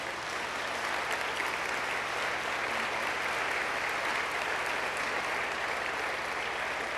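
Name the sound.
applause for the Lord in church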